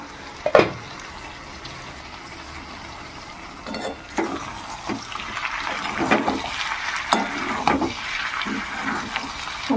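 Pointed gourd, potato and shrimp fry in a pan, giving a steady soft sizzle with a few sharp clinks and scrapes from stirring and the lid, and no talk.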